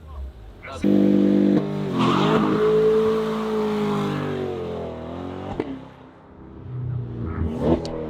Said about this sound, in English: You hear that pop in the transmission?